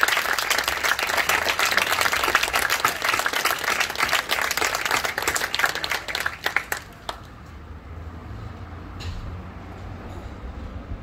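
Strong crowd applause greets the proclamation of the Hereu and Pubilla at the Pallaresos Festa Major, a dense burst of clapping that runs for about seven seconds, then stops abruptly and leaves quieter room tone.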